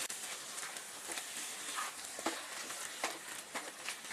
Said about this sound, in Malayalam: ഗരം മസാല ചേർത്തിട്ടൊന്ന് ഇളക്കി കൊടുക്കാം